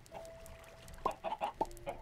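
Minecraft chickens clucking in short bursts, several quick clucks in a row after a thin steady tone, fairly faint and alone with no talk.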